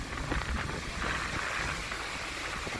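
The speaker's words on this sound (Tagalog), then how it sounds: "Grabe ang lakas ng hangin." Strong wind gusts beside the Tait River, a continuous loud roaring rush buffeting the microphone with no pause and no talking.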